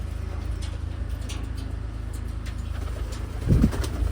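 Pigeons, a pair of Taiwan birds, coo softly amid a steady low rumble of nearby traffic, with a slightly louder burst of movement near the end.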